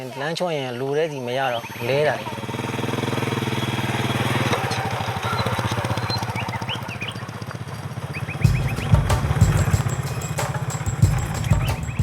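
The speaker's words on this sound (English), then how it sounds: "I've loaded about 25 litres on my motorbike." A motorbike carrying about 25 litres of fuel rides a rough road in north-west Myanmar, its engine buzzing steadily and then surging louder, after a voice at the start.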